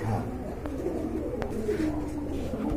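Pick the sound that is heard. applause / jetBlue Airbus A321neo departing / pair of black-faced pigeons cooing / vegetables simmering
pair of black-faced pigeons cooing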